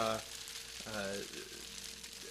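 Ingredients for a vegetarian Thai curry fry softly in a pan, a quiet steady sizzle with faint voices and tones layered over it.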